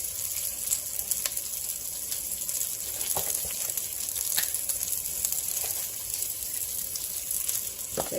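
Bacon frying in a pan, a continuous even sizzle with faint crackles and pops, close and moderately quiet, with no voices.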